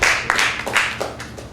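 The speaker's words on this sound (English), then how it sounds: "Clap your hands if you haven't heard that." A comedy-club audience at a stand-up show answers the comedian's show-of-hands poll with a few scattered, separate claps, sparse and fairly close rather than a full round of applause.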